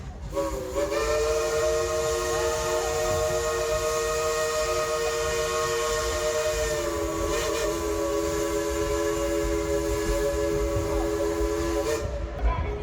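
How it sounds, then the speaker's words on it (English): A steam train whistle at Dollywood blows one long, loud, sustained chord for about twelve seconds, with rumbling rail noise underneath. "Tell him to blow the whistle."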